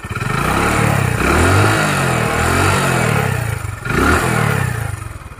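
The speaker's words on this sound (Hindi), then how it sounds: "अब इंजन के पास से साउंड सुनते हैं।" A restored Hero Honda CD Deluxe motorcycle engine running close up, idling with a steady mechanical thrum and rising in two throttle blips, light clatter audible over the exhaust.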